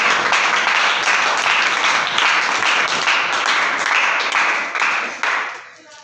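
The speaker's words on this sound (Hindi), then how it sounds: "अगर आपको ठीक समझ आ गई है तो यीशु के जलाल के लिए ताली बजा दे" A church congregation claps together in a full burst of applause that holds strong for several seconds, then tapers and fades away toward the end.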